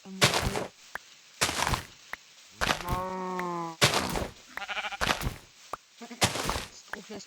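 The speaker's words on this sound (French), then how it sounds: "Super, un mouton" A Minecraft sheep bleats repeatedly in a video game, short wavering cries alternating with sharp clicks and thumps of gameplay at close, even loudness.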